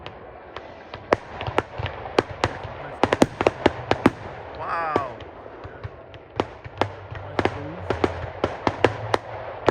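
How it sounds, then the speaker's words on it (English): Bonfire night fireworks burst over the Royal Leamington Spa Rugby Club: irregular sharp bangs and crackles, some near and loud, others distant, with a rising whistle midway and people briefly talking. "I don't think there's any bonfire actually, it's just the fireworks"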